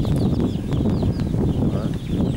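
A hen clucks repeatedly in soft, close calls to her chicks, with faint chirping chicks and a windy background rush.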